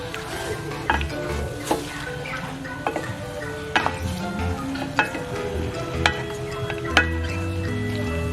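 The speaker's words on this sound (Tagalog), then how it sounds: "Keep sauteing until it is half cooked." Chicken curry sautes in a pan, a steady close sizzle broken by regular clicks and scrapes as the pieces are stirred, with no talking.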